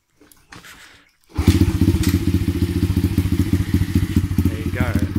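A Honda CT110 motorcycle fitted with a Zongshen 125 engine starts and settles into a smooth, steady idle, a close, loud, even putter that carries on to the end after a brief quieter lead-in.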